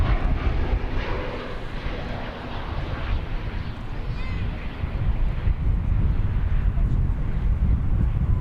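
An airliner arriving at DFW airport, its engine roar broad and steady across the whole stretch, with gusty wind buffeting the microphone and no clear peak of approach.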